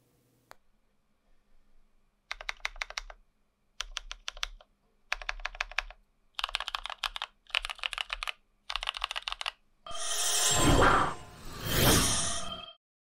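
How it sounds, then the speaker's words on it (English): Idobao Montex mechanical number pad being typed on in bursts of rapid clacky keystrokes separated by short pauses, close and crisp, ending with two louder swishing sweeps. "let's get right into that sound test"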